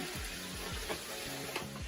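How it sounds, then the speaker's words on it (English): Faint, steady sizzling of cabbage cooking in a pot, a soft crackly hiss with a few light clicks, no voices. "You can still hear that sizzle."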